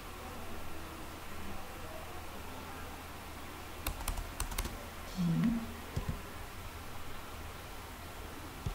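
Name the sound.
typing on a computer keyboard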